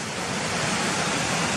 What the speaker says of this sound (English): this is where the stream comes around the back next to the wall and joins the path here